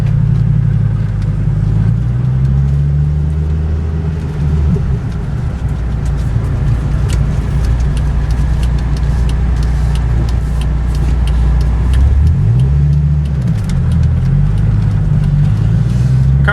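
A 2008 Dodge Viper SRT-10, a salvage repairable car, drives with a loud, steady engine drone throughout, swelling into revs around the middle and again near the end, with no talk over it.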